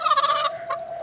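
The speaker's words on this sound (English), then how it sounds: "generally they squawk when they get nervous, which is kind of all the time" Nervous Leghorn chickens squawk in a loud, close burst of harsh, shrill calls, followed by a brief pause and one more shorter squawk.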